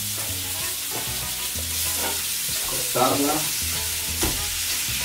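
Meat sizzles steadily in a frying pan for a burrito filling, with a few louder scrapes and clatters of stirring breaking through the constant hiss.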